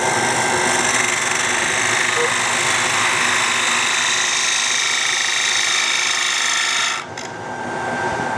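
A wood lathe spins steadily while a bowl gouge cuts a wooden bowl, making a loud, even whir and scraping hiss that drops away sharply near the end.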